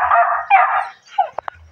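Small dogs barking and yipping close by, a run of excited barks followed by two short sharp yips near the end.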